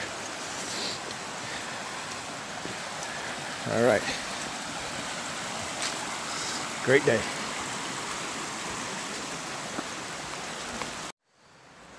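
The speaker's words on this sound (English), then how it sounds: "Just love the sound of that flowing water." Water flowing along a creek bed on a spring trail walk, a steady broadband rush running throughout, with a couple of brief louder bumps near the microphone and a short spoken remark before it cuts to silence at the end.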